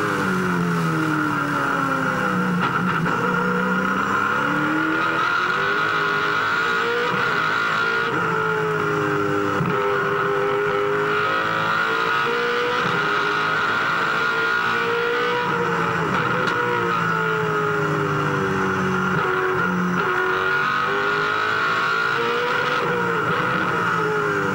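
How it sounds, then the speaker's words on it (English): A Holden Racing Team V8 Supercar engine howls at full throttle during a 2003 race at Hidden Valley, a loud onboard roar with pitch climbing and dropping through gear changes and corners, steady throughout with no talk. "let's just go quiet for a moment and have a listen to the HRT car at full tilt"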